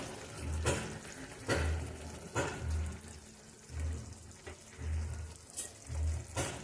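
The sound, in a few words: fish and slit green chillies sizzling in a pan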